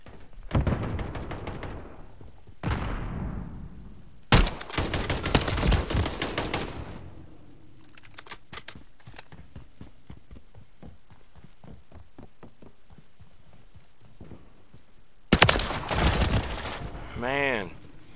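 Gunfire from a video game weapon rings out in repeated loud bursts and rapid volleys, broken by quieter stretches of lighter shots and a final heavy burst near the end.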